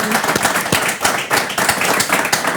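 Audience clapping at a French city-presentation event in Caen, steady and fairly loud with dense overlapping claps throughout, no speech on top.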